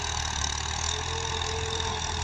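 A Ghazi 65 hp tractor engine runs steadily in an onion field in rural Punjab, Pakistan, a close, continuous idling drone with low rumble and a faint knocking texture throughout, no voices.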